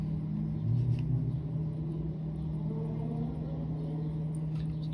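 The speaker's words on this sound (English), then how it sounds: "Sorry for someone's loud car in the background there." Loud car engine rumbling steadily in the background throughout, a low continuous drone with a slight swell early on, no talking over it.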